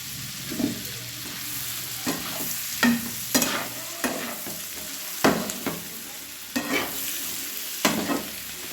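Salted eggs frying in a pan for an egg butter malaikari curry: a steady, fairly quiet sizzle broken by about a dozen short scraping stirs of a utensil against the pan, with no talking.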